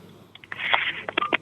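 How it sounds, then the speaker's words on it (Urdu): Electronic beeps and tones as a caller's line drops during a live Islamic TV call-in show, a short run of clipped pulses and a brief rising tone. "کال ڈراپ ہو گئی."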